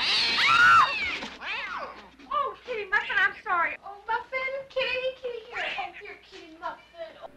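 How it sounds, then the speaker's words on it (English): A cat meows in the 1982 film Slumber Party Massacre, a loud drawn-out cry at the start, followed by a long stretch of close, clear talking. "You see what happens when you don't say hi to the cat?"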